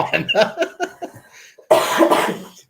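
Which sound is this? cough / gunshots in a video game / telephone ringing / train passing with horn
cough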